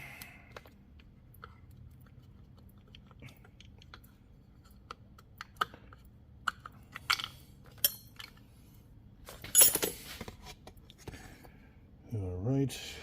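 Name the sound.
removing bolts from a chainsaw, metal clinking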